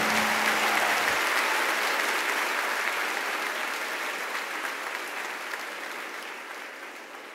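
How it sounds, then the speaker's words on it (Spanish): An audience at a Christian string-music tribute gives a dense, steady round of applause to welcome the Bermúdez brothers trio, heard alone and slowly fading over seven seconds. "Recibámosles con un fuerte aplauso."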